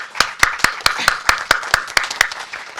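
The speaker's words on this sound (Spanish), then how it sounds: "quisiera pedirles un fuerte aplauso para todos nuestros ponentes" An audience at an academic talk applauds the speakers with crisp, evenly spaced claps in a steady rhythm, close and distinct, with no talking over it.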